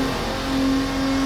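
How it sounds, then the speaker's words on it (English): Tornado V12 GT race car modeled on the Lister Storm, driven at Vallelunga in Assetto Corsa, holding a steady, loud engine drone with a sustained tonal whine throughout, no voices. "This is the Tornado V12 based on the Lister Storm."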